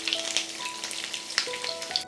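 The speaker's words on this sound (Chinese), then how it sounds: "煎猪皮的时候呢，可以盖上盖子，它才不会把油溅出来" Pork belly pan-frying with garlic in an oiled pan, a steady close sizzle and crackle of spattering fat with a few sharper pops, alone and without talk.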